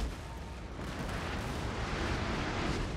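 Cannon artillery from a Total War Pike and Shot battle between France and Spain rumbles as a dense, continuous roar of distant booms, steady and loud throughout.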